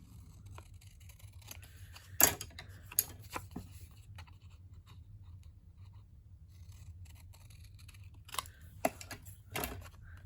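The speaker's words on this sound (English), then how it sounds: "I'm going to cut it about right here." Paper being cut with scissors at close range, a few sharp crisp snips scattered among quiet handling noises against a low background hum.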